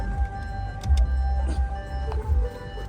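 A 2025 VW Virtus sits idling with its engine running in a forested spot, a low steady rumble with faint mechanical hum and a few light clicks and taps, close and moderate, with no voices.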